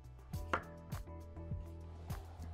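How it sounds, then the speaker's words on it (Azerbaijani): A knife cuts a potato into medium cubes in about five evenly spaced, soft chopping strikes, quiet and close, with nobody talking. "Kartofumuzu ilk önce kub şeklinde doğrayaq."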